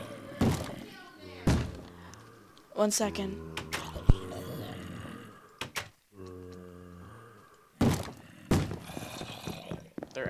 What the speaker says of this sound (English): Oh god, they're breaking down our window.